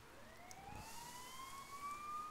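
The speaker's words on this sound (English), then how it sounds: "You hear sirens nearby" Police sirens wail nearby in the video game Persona 4 Golden, a rising then steady tone sounding moderately distant and alone without talk.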